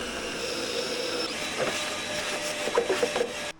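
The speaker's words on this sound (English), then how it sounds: "I've mounted it on the front ones that are now being drilled" An electric drill bores bolt holes for generator set mounts, a steady close whirring hum with a faint high whine, rising into a few stronger bursts near the end.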